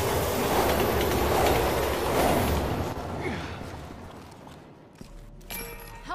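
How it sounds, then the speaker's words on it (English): A subway train in the video game Resident Evil 6 rumbles loudly along the rails with a steady clatter, then fades and thins out toward the end, where a brief metallic squeal rises. "How are the trains still running?"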